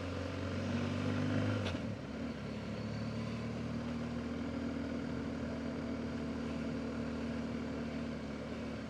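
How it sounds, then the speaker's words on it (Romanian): City street traffic near the centre of a Chinese oil city, a steady vehicle rumble with one louder engine passing early and then fading into continuous distant road noise. "Aici e deja traficul un pic mai mare."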